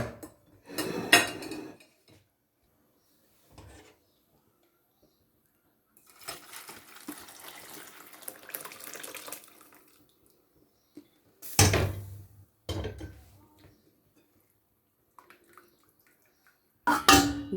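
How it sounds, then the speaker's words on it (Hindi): Chicken yakhni stock is strained from a pot, with clanking pots and utensils in sharp bursts and a softer stretch of pouring liquid in the middle, separated by quiet gaps. "तो यखनी को हम जो है छान लेंगे।"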